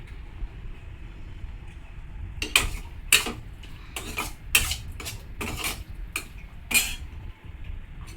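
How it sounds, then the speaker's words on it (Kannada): A spoon stirs a paneer mixture with lemon juice in a bowl, giving a series of sharp, close metallic clinks and scrapes at an uneven rhythm over a soft background hum. "ಇದಕ್ಕೆ ಕೂಡ ಸ್ವಲ್ಪ ಲೆಮನ್ ಜ್ಯೂಸ್ನ ಹಾಕಿ ಮಿಕ್ಸ್ ಮಾಡೋಣ."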